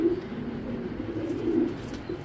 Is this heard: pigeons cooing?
yes